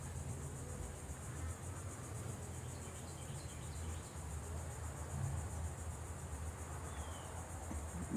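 Bees busy around a trash can, a steady, soft insect buzz that holds evenly from start to finish with no voices.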